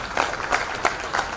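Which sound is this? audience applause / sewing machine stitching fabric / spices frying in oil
audience applause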